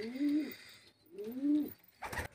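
Two clear, swelling coos from giribaz pigeons in a loft sound close and distinct, one after another, followed by a sharp rattling clatter like wings or cage movement.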